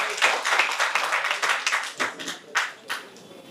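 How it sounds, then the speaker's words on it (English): Audience applause at a CSR summit held at Hansraj College, breaking into uneven bursts of clapping that thin to a few scattered claps toward the end. "a big round of applause to Hansraj College for this noble initiative"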